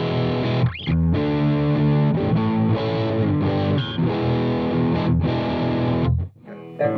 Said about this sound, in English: So anytime we go to distortion, that's all of it's coming from right here.